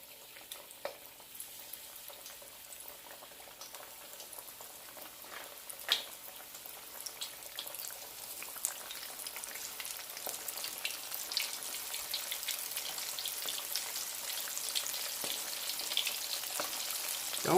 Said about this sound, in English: All right, let's go ahead and get to frying.